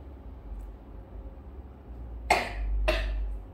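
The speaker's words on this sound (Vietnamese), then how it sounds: "Mình cũng ho luôn." Two distinct coughs from a person at fairly close range, sharp bursts about half a second apart, over a low steady background hum.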